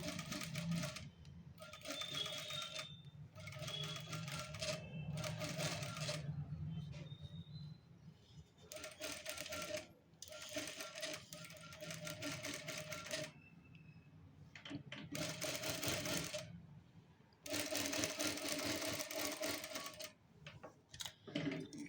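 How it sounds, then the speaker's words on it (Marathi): Sewing machine stitching a marked line on fabric while making a round neckline, running in several bursts of steady whirring with short pauses between them. "आता आपण टीप मारून घेऊयात व्यवस्थित जसं मार्किंग केले त्याच्यावरूनच तुम्ही टीप मारून घ्या"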